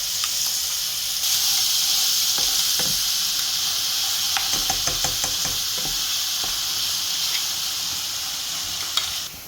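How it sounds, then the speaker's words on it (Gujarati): Crushed ginger and garlic with asafoetida sizzling in hot oil for a Rajasthani chutney, a loud, constant close-up hiss with a few sharp crackles and spoon scrapes throughout. "તેલ આવી ગયું છે તો આપણે એમાં 1 ચમચી જેવી હિંગ નાખી દઈશું પહેલાં, અને ત્યારબાદ પીસેલું આદું અને લસણ આપણે એડ કરી દઈશું એમાં"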